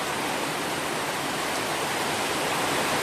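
Heavy rain pours down in a dense, even hiss over rice paddy country, steady and loud throughout with no pauses or voices.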